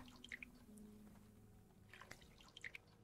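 Faint water drips and trickles in the horror video game Song of Horror, with scattered soft droplets over a quiet low hum.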